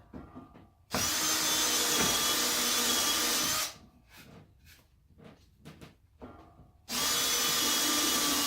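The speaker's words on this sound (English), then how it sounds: "I'm just going to start off by drilling. Actually, I'm going to use a Forstner bit." Power drill with a Forstner bit boring holes into a piece of wood: two loud, sustained whirring bursts separated by a quieter gap of short handling noises, heard close up.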